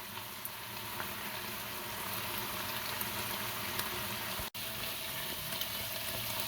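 Pork tocino and longganisa cook in a pan without oil, giving a soft, continuous sizzle and bubbling hiss with a faint tap-like crackle and one brief dropout partway through.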